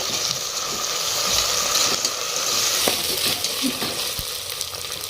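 Egg biryani masala fries in a pan as it is mixed, a continuous close sizzle with scattered scraping stir strokes and a soft background hum.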